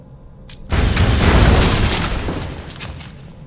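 Explosive gels planted on a prison wall in a video game go off in one loud, deep boom that swells and rumbles away slowly over a few seconds.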